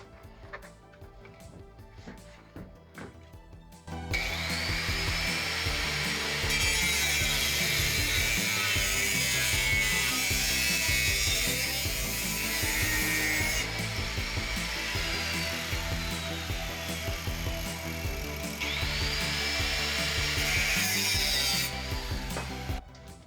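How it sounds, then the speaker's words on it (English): A dull hacksaw cutting aluminum stock, a rough rhythmic rasp of rapid back-and-forth strokes, close and loud, starting after a few seconds and continuing steadily for a long stretch without speech. "Pretty rough cut with the hacksaw"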